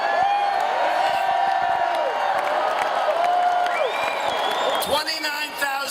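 A large crowd at a 2016 Donald Trump rally in Cleveland, Ohio, cheering loudly and steadily, with rising whoops and chanting voices over a dense roar of noise.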